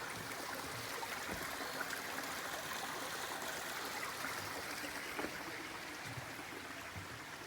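Steady trickle and gurgle of a small mountain stream beside a hiking trail on Mt Shaw, New Hampshire, close and continuous with no talking.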